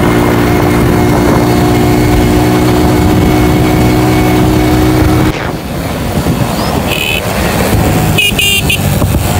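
A motorcycle engine starting and running outdoors: a steady, loud, close mechanical drone with a shift partway through, then rougher running with brief higher tones on top.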